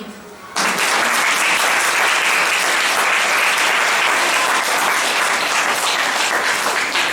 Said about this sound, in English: A very big round of applause for Hitesh.